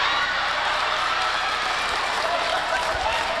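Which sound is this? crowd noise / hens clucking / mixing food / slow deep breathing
crowd noise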